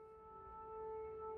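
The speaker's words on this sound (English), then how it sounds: "there is a siren going on." A steady, faint wailing civil defense siren holds a constant tone in the distance in Chernivtsi, Ukraine, with no other sounds.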